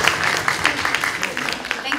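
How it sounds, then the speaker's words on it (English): Audience applause greeting the grand finalists at a high school English debate competition final, a steady patter of clapping over the whole stretch. "please give a round of applause to our grand finalists"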